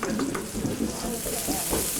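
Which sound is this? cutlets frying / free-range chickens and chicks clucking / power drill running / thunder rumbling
cutlets frying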